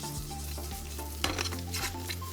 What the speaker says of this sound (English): just pop it straight into the pan and give the pan a bit of a jiggle